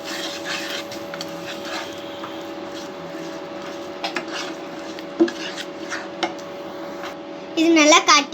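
Sauce being stirred in a pan for a homemade paneer pizza: a steady run of soft scraping and clinking of utensil against cookware, with brief louder knocks, ending in a short burst of sharper clatter.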